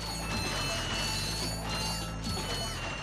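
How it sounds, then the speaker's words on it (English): Blaster weapon fire in the Ratchet and Clank 3 video game, dense rapid mechanical zapping and clattering bursts over continuous busy game noise, steady and loud throughout. "Such a good sound for the blaster,"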